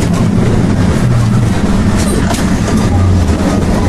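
A train runs along rails at speed with a steady, loud rumble and faint clickety-clack, filling the whole stretch without any talk.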